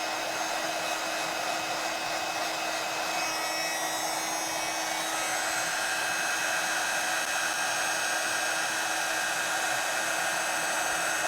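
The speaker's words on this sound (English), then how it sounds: "I'm going to take my heat tool and melt this" A heat tool melts embossing powder on a mixed media art journal page, giving a loud, steady blowing hiss close by that runs without a break for about eleven seconds, with no talk.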